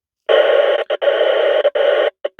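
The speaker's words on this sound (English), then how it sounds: "I'm going to turn my squelch down until I start to hear static." A two-way radio on a forestry road channel bursts into harsh static as the squelch is turned down, loud, choppy hiss segments starting and stopping abruptly with short gaps.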